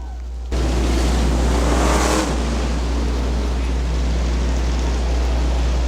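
Street stock cars racing at Butler Motor Speedway in 2001 make a loud, steady engine roar that holds throughout after a brief quieter opening, with a swell near the middle as the pack passes.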